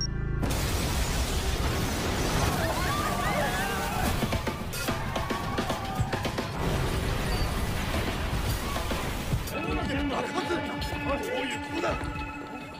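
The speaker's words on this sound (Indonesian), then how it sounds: "Dan benar dugaan Shibazaki, kantor kepolisian Roppongi meledak." A police station in Roppongi blows up in an anime, a long, loud roaring blast with crashing debris and rumble that rolls on for several seconds before shifting into a thinner, ringing tail.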